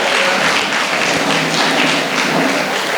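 An audience claps at a web counselling seminar hall in Ongole, a dense, loud and steady patter of many hands that holds evenly for the whole three seconds.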